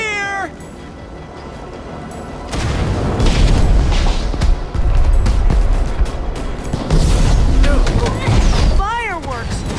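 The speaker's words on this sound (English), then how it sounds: "Fireworks!" Fireworks burst in the Minecraft: Story Mode video game as a dense run of loud booms and crackles that swells and holds for several seconds, mixed with other game sounds and voices.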